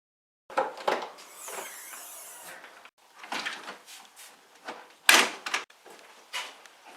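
Interior trim panels being pried off a VW Passat, a close series of plastic clicks, scrapes and knocks in irregular bursts, with a sharp pop near the end and no talking.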